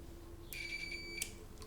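A multimeter set to continuity mode gives a thin, high electronic beep lasting under a second, faint over a quiet room hum while a heater cable is being checked.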